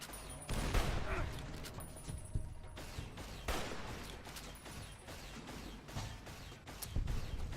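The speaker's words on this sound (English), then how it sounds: "Arcade Ganon can't hit shit with that laser pistol" Laser pistol shots fired by the companion Arcade Gannon in Fallout: New Vegas, a series of sharp crackling discharges spaced roughly a second apart, mixed with other combat gunfire and mechanical clatter.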